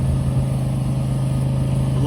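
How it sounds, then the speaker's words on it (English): A U-Trough UCX3 conveyor loading certified seed wheat into a trailer, a loud steady mechanical drone with a strong low hum and constant rushing grain noise, close and unbroken. "Loading with the U-Trough UCX3"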